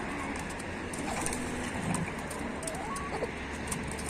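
Village chickens cluck and murmur softly in the middle distance, with occasional short calls over a constant outdoor background.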